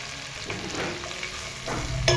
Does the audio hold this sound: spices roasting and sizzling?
yes